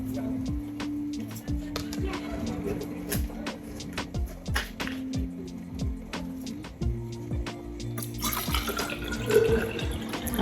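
Tap water runs steadily into a water bottle at a sink, with brief drips and splashes and a rising, brighter rush near the end; background music plays underneath.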